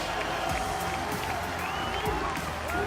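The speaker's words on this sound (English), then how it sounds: "To France as they are cheering for Uzi" A large arena crowd cheers and applauds for Uzi as RNG wins a League of Legends international title, a dense continuous roar with whistles and shouts rising through it.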